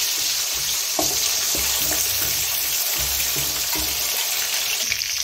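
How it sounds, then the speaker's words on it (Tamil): Small onions sautéing in a pan for chicken chukka: a loud, close sizzle with regular scraping and clacking stirring strokes about every half second, no one speaking. "சின்ன வெங்காயம், நல்லா வதக்கிக்கலாம்"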